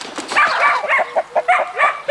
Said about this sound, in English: Chad breeds dogs and game birds